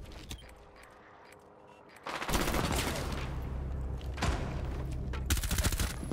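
Gunfire in Rainbow Six Siege, a burst of rapid shots that starts after a quieter lead-in and keeps up loud and sustained for several seconds, with a short gap and further sharp cracks near the end.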